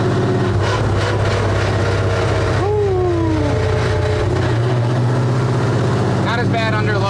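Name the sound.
old pickup truck engine exhaust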